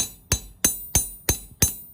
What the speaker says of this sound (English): when I hammer it, creates an interesting pattern